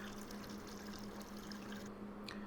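Water flushes through a Vevor hard water softener, a steady low rushing pour with a faint hum, continuous and fairly quiet.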